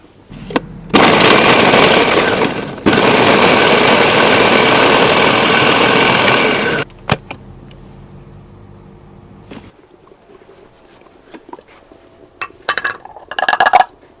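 Blender grinding garlic, red and green chilies and coriander root, a loud, close whirring roar that runs for about six seconds with a short dip in the middle, then stops, leaving a quiet kitchen with light clatter.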